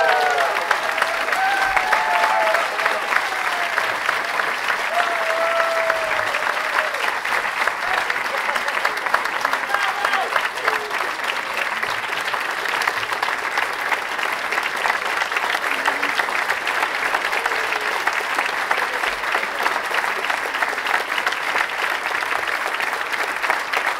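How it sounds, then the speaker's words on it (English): Sustained applause from a large crowd at a school convocation, steady and continuous throughout, with a faint voice briefly audible early on. "Elizabeth Gutterman told me to pause for the applause."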